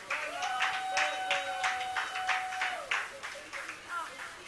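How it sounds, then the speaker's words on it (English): Applause for a performer at a live-streamed stage event, steady overlapping claps with a sustained tone and some voices underneath, fairly loud and close, easing off near the end. "A round of applause for her"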